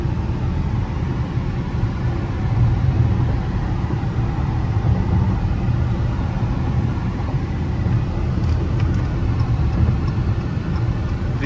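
A 2018 Dodge Challenger GT with a V6 engine and all-wheel drive idles, a steady low rumble holding evenly throughout with no talk over it.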